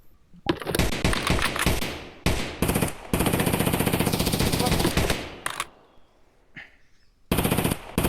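Bursts of machine-gun fire at a military training range, loud and close, several sustained rattling volleys separated by short pauses, with occasional voices calling out between them.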